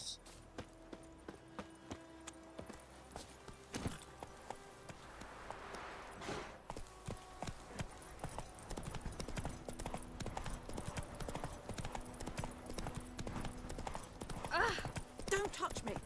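Horse hooves clip-clop steadily in the open world of Witcher 3: Wild Hunt, a rhythmic walking gait that quickens later, with a person talking over the game audio.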